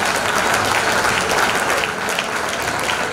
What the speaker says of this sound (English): Let's give them all a round of applause even as you read out the names.